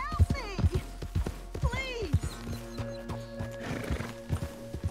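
A horse in Red Dead Redemption 2 whinnies and neighs twice over a rhythmic clip-clop of hooves, with a faint steady hum and music underneath.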